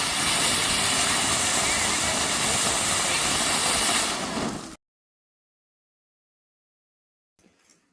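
A loud, steady roaring hiss of a fountain firecracker spraying sparks for several seconds, then cutting off abruptly into silence, with a brief faint noise near the end.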